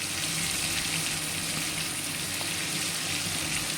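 Potatoes, carrots, slit green chillies and grated ginger sizzle and fry in a pan while being stirred, a steady close hiss with faint scraping throughout and no talking.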